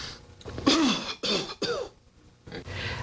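A post-surgery patient in a 1980 hospital breathing-exercise demonstration coughs after a deep breath: about three close, harsh cough bursts, with a throat-clearing quality, heard alone and up close.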